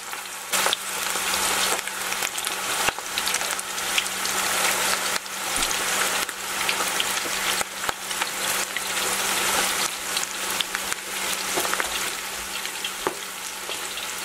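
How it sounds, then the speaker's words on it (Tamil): Mutton kola urundai balls deep-fry in plenty of hot oil, giving a steady, loud, crackling sizzle with small pops throughout and no voices. "எண்ணெய் நிறைய வச்சுருக்கிறதுனால நான் நிறைய உருண்டை போடுறேன்."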